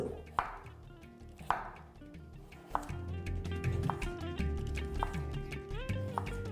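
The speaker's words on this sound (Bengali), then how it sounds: "গাজরটাকে প্রথমে আপনাদের এইভাবে পাতলা পাতলা করে স্লাইস করে নিতে হবে" Knife slicing a carrot into thin rounds on a cutting board, sharp chops landing in an uneven series close by, with a steady tonal music bed running underneath.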